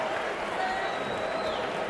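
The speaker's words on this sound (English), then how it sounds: "But the crowd getting behind Holyfield at the end" A boxing arena crowd roars and applauds steadily during the James Toney vs Evander Holyfield fight, a loud, dense wash of cheering that holds without a break, with a commentator's voice faintly underneath.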